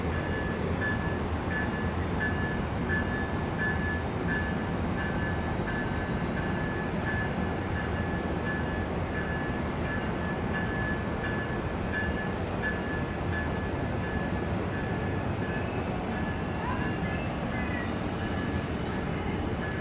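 A Capital Corridor passenger train pulls out of Martinez station, a steady low rumble and rolling hum that holds evenly throughout, with a faint tonal whine over the noise and no speech.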